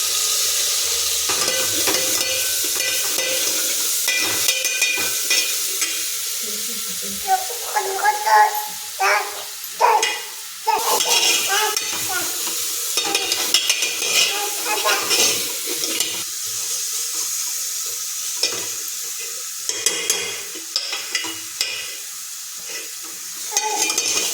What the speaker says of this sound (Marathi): लवंग, दालचिनी, मी आलं, लसूण, कोथिंबीर ही फोडणीसाठी आपण टाकत आहे.